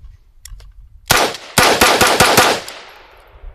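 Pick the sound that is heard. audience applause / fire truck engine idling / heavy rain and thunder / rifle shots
rifle shots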